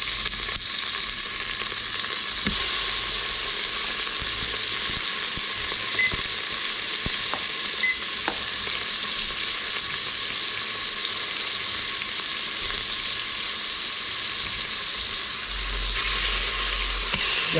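Venison back straps fry in hot, lightly smoking bacon fat in a pan, giving a loud, continuous sizzle with occasional sharp pops and crackles throughout.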